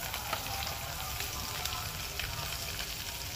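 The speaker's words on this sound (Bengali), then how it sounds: "যতক্ষণ আমার মাছটা ভাজা হচ্ছে" Fish fries in a pan with a continuous, even sizzle that stays fairly quiet and unbroken throughout.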